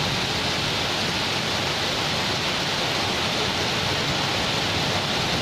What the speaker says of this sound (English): Rain in city.